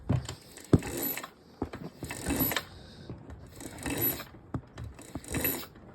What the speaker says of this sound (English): I'm just gonna push the kickstarter over by hand